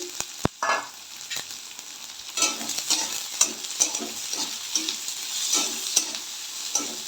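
Onion and garlic fry in oil with nigella seeds while being stirred, a steady close sizzle broken by repeated scraping strokes of a spoon against the pan.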